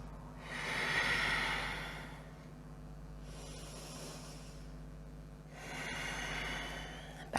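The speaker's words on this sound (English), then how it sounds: "Just 3 deep breaths." Three slow deep breaths during a yoga forward fold, each a soft airy inhale and exhale swelling and fading, close and quiet with steady background hum.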